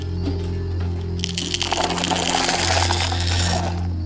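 Ratcheting clicks and rattling from the screw lid of an original lead pellet ammunition box being twisted open, a noisy mechanical clatter close up over a steady background hum.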